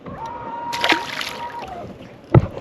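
A released fish splashes back into the water of a muddy lake creek, one sharp, close splash near the end following quieter sloshing and faint background sounds.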